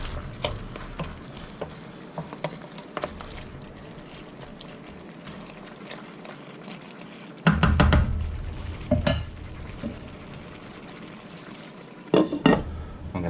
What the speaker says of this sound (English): I'm just going to whack a lid on this once I've stirred it up